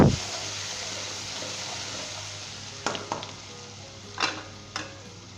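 Mutton frying in a pan with ginger garlic paste, a steady close sizzle with a few sharp scraping stirs near the end.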